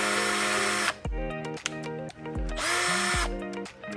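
An INCO 20V cordless impact drill whirs in several short bursts of varying length, with whining motor tones that rise and fall as it starts and stops, close by and loud with no talking.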